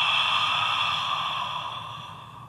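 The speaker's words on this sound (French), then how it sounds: "Inspire par le nez. Expire par la bouche." A long, steady breath pushed out through the mouth during ujjayi yoga breathing, a close, airy hiss that fades gradually over a couple of seconds.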